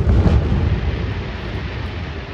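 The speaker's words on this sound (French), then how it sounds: "Je vous laisse contempler quelques secondes de ce feu d'artifice." Fireworks over Port Hercule in Monaco boom and rumble in a deep, loud rolling blast that fades gradually, with no voices.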